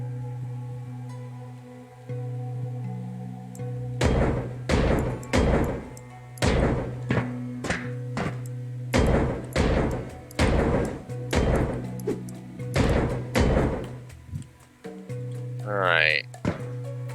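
Bolts broken apart while scrapping a ship in Ship Graveyard Simulator 2, a run of about ten heavy, evenly spaced clanking strikes over a steady low mechanical hum.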